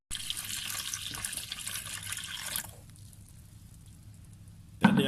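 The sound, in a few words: pouring warm milk and butter into machine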